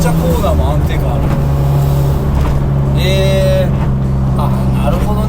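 A Subaru Legacy BP5 turbo sports wagon's intake and engine drone hums steadily from inside the moving cabin while occupants talk over it, along with road noise and a brief rising whine partway through.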